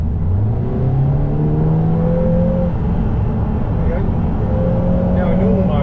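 A Lotus Emira with a four-cylinder engine and automatic gearbox holds a high, steady 5,000 rpm without shifting after easing off, a sustained droning whine with a few shifts in pitch and a voice talking over it.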